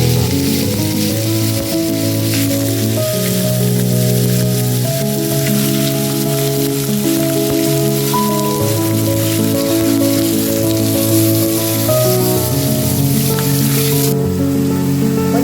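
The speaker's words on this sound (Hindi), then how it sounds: "इसके बाद लहसुन ऐड कर दिया। लहसुन को 1 मिनट कुछ सेकंड के लिए कुक करेंगे हम।" Garlic fries in oil in a pan for a pasta dish, giving a loud, steady, crackling sizzle that runs unbroken throughout, with a tonal background hum beneath it.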